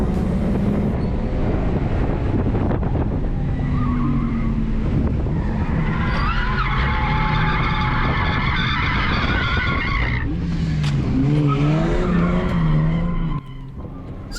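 A drift car skids around a track on a stormy day, its tyres squealing in long wavering tones over a steady, loud engine roar that runs unbroken from start to finish, with no talk.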